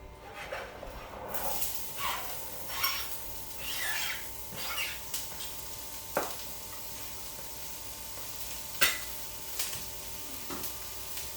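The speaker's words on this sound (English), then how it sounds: "All right, we got our grease nice and hot there. We're gonna add our onion." Onion hitting hot grease sets off a soft, continuous sizzle with recurring crackling spits and pops, quiet and close in a home kitchen.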